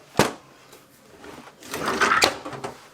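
A sharp wooden knock followed by a sliding scrape and a second thud, like a drawer pulled open and pushed shut nearby in a cruise ship porthole cabin.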